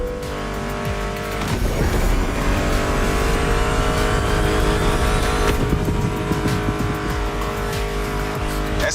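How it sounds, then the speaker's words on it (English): Racing cars in The Crew Motorfest roar continuously, engines revving and shifting with rising pitch sweeps and tire squeal, loud and close throughout with no talking. "Meshes well with the sound of the engines, you feel me?"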